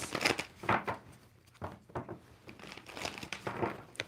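Crisp riffling and snapping of tarot cards being shuffled, several quick bursts with short pauses between, close and fairly quiet.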